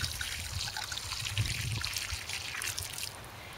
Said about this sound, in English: you need to give it a good water.